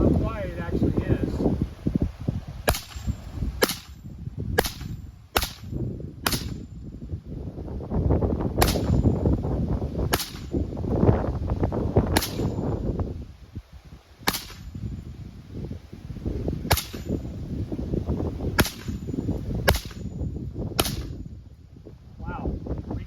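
Rifle fired through a Huxworks Flow 556 Ti titanium suppressor outdoors, about fifteen sharp suppressed reports spaced a second or two apart, over light wind and someone talking.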